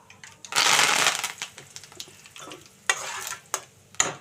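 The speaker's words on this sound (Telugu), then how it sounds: "వేగిపోయిందండి తాలింపు అయితే." A sprig of curry leaves drops into hot tempering oil for a garlic chutney, setting off a loud sizzling burst that settles into softer crackling and intermittent scraping stirs in the pan, with no talk.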